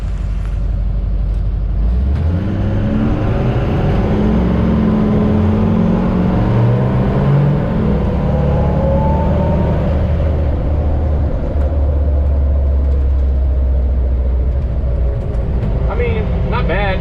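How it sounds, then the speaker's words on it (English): A Humvee swapped to an LBZ Duramax diesel accelerates, its engine rumbling low and loud as the revs climb and settle, heard from inside the cab. "how well does a Duramax swapped Hummer accelerate?"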